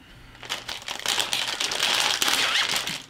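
A package of dark chocolate stuffed Oreos is pulled open with a loud, close crinkling and tearing of plastic wrapper lasting a few seconds, with a zipper-like rip.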